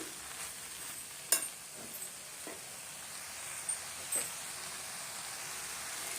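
Banana flower and drumstick leaves sauté in a pan for a stir-fry with a faint, steady sizzle, broken by a few soft clinks and scrapes from stirring. The cooking sounds are quiet, with no talking.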